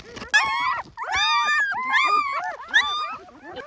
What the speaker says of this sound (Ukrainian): Цуценята свіжонароджених, много тут.